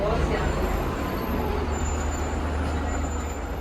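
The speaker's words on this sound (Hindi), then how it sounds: "एक सिग्नल आ गया है, इसी की वजह से ट्रैफिक रुका हुआ है, तो चल पड़ा है थोड़ा सा ये" Road traffic in New Delhi's Lutyens' Zone at a signal: a continuous dense rumble of engines and tyres, with buses and trucks idling and creeping, a faint high hiss over the steady low drone.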